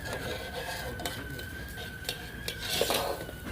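Food is stirred in a frying pan, metal utensils scraping and clinking at irregular intervals over a soft background sizzle.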